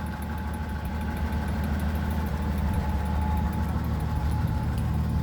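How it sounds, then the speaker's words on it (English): An unrestored 83-year-old car engine idles at close range, giving a steady low exhaust rumble with an even, continuous throb and no talking. "Get a little exhaust note back here."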